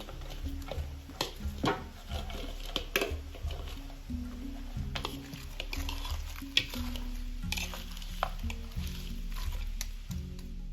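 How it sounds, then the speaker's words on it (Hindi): Fried chicken wings get tossed with mango habanero sauce in a bowl, giving repeated sticky, squishy stirring and scraping strokes in an irregular rhythm. The sound is close and fairly quiet. "और साथ ही आप थोड़ी थोड़ी करके सॉस डालते जाएं। इसको मिक्स कर लीजिए।"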